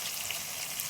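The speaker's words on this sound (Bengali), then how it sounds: "এখন তেলের মধ্যে দিয়ে নিয়েছি গোটা গরম মশলা," Whole garam masala and onion fry in hot oil, giving a brief, steady crackling sizzle with no voices.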